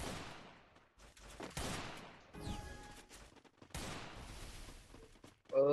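Volleys of automatic weapon fire in the mobile shooter Free Fire come in several separated bursts with short quiet gaps, close and fairly loud, ending with a sharp louder blast.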